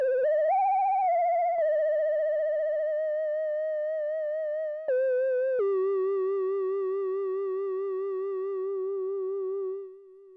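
A sustained analog synth tone run through a cheap guitar effects pedal, with a wobbling, chorus-like warble, steps down in pitch a few times, buzzy and slightly distorted, then fades at the end.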